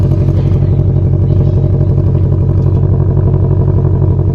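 A loud, steady rumble of a 2020 Shelby GT500 exhaust with valves open, idling and revving, deep and continuous with a throaty low-end pulse, close by.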